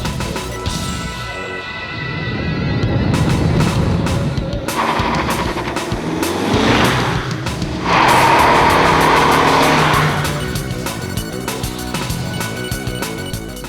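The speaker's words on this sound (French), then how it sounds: "la voiture a tendance à subir des pertes d'adhérence, notamment du train avant" A car struggling for traction on a slippery road, its front end losing grip while ASR traction control intervenes; loud, continuous engine and road roar with surging bursts, no voices.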